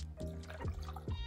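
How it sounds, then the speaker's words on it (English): Gin is poured into a cocktail shaker packed with ice, giving a soft, close liquid trickle with faint clinks and dripping, quiet and steady with no voices. "First, you need a cocktail shaker full of ice, followed by 50 mils of gin"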